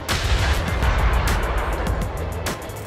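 Bombs and artillery fire boom continuously in a World of Warships naval battle, dense rumbling blasts with sharp repeated impacts layered over one another, loud and close for the whole stretch, with no voices.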